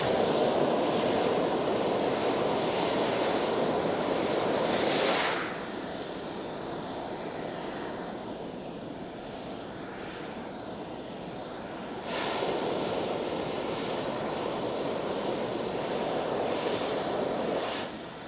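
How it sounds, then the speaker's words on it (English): SpaceX Super Heavy Booster 7 venting on the test pad, a continuous loud roaring hiss that swells, eases for several seconds, then surges again, heard at a distance with no voices. "we're going to try to talk between the venting sounds here"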